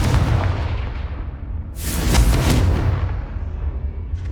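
The Confringo fire spell from Hogwarts Legacy goes off as a loud, deep blast with a burst of hissing, rushing noise in the middle, fading away over the following seconds.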